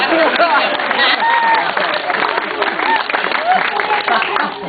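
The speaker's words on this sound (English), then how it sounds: "you can give Maddie a round of applause" A crowd at Australia Zoo applauds Maddie the tiger after a jump into the pool. Dense, continuous clapping fills the whole stretch, with a voice talking over it.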